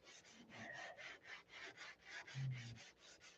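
Sandpaper of 1000 grit is rubbed back and forth by hand in quick, even, close strokes, about a dozen soft rasping passes in a steady rhythm, with no talking.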